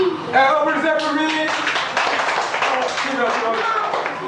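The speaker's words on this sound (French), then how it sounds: "Applaudissez pour lui." Children in a classroom clap together in a burst of applause, with talking and voices mixed in over the clapping.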